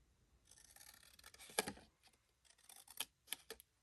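Scissors cut paper for a handmade craft gift box, giving soft close snipping and rustling with a few sharper clicks of the blades, faint and with no speech.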